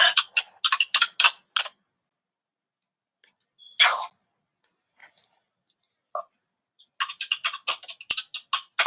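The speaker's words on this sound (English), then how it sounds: "Well, you sitting there typing away." Computer keyboard typing in a home setting, quick clusters of crisp clicks in bursts separated by pauses, close and fairly loud, with no talk over it.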